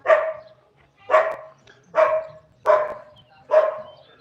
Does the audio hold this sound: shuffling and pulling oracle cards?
no